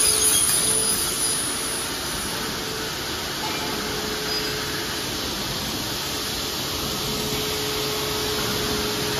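A TS-J39 automatic aluminum picture frame cutting machine cutting aluminum profile gives a steady, dense whooshing roar with a faint high whine, continuous and unbroken for the whole stretch, with no voices.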